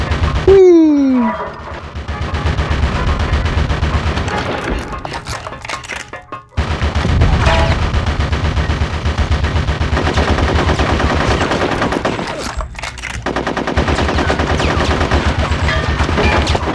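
A mounted gun fires in Conker's Bad Fur Day, loud rapid automatic bursts that run almost continuously with two brief pauses, opened by a short falling whistle.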